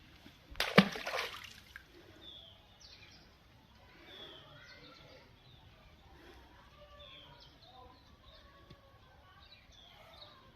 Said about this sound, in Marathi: दगड आता पाण्यात टाकत आहे